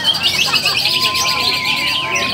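A green leafbird sings at a bird song competition, a loud, steady stream of high chirps and warbles that carries on without a break, with hints of crowd noise beneath.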